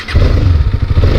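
Husqvarna Vitpilen 250 BS6 cafe racer motorcycle engine starting up and idling with a steady, close, loud low rumble and slight mechanical clatter, no voices.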